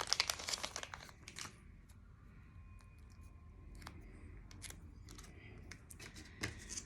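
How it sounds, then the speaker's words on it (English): Close snipping and crinkling of scissors cutting a gold Color Street nail polish strip, a few crisp cuts at the start and then quieter rustling handling with another snip near the end. "I'm gonna cut the rainbow off and cut that rainbow off so that I have this gold"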